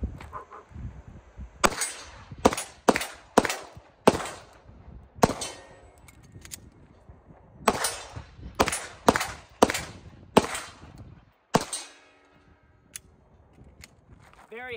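Pistol fitted with Grit Grips fired outdoors, a series of loud sharp shots in quick pairs and strings with short pauses, some metallic clangs, and a voice speaking briefly.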